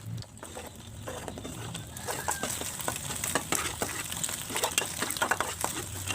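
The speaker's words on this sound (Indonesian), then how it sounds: "sekarang sudah saya panaskan minyak, kemudian diorak-arik dulu telur yang udah dikocok tadi" Beaten eggs are scrambled roughly in hot oil in a pan, a steady close sizzle broken by frequent sharp spatula scrapes and taps against the metal.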